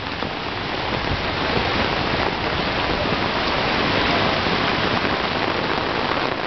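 Light rain falls steadily on a neighborhood street in Vila Regina, Itaquera, São Paulo, a dense continuous hiss of drops on surfaces, close and even throughout with no voices.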